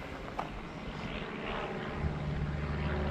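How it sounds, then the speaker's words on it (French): Airplane passing overhead during a solo hike, a faint distant engine rumble that swells gradually with rustling outdoor ambience, no talking. "Il y a un avion qui passe au même moment."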